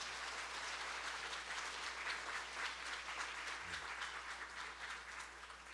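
A church congregation claps together in sustained, even applause that sounds fairly soft and distant, like a large hall heard from afar.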